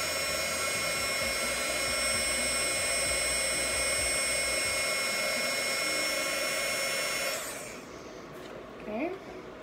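A heat gun blows steadily on hard PVC pipe, a loud, continuous whirring roar like a hair dryer that cuts off near the end, followed by a faint rustle.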